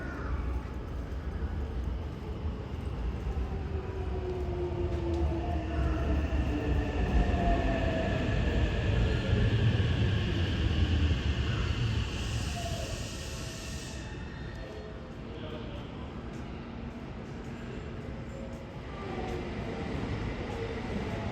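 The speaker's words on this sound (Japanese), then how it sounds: "ただいま、1番ホームに到着の電車は特急新海地行きです" A Hankyu train pulls into platform 1 at a station, a continuous rumble of wheels and motors rising and holding over about twenty seconds, with a faint high whine and a brief tonal sound partway through.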